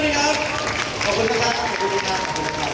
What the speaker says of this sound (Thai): ขอเสียงปรบมือหน่อยนะ